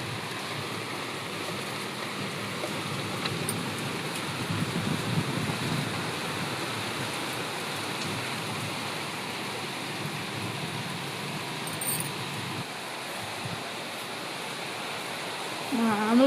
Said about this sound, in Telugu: మామూలుగా లేదు వర్షం అయితే,